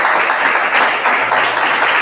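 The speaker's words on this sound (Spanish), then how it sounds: "¿Cuántos tienen un aplauso para nuestro Señor por esta palabra?" A church youth congregation claps together in a steady, loud, even wash of applause that holds without pause.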